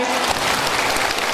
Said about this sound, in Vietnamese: Chúng ta vỗ một tràng pháo tay.